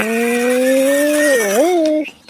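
A voice imitates a toy airplane being pushed along by hand: a close, buzzing engine-like drone holds steady, dips and wobbles in pitch, then stops abruptly.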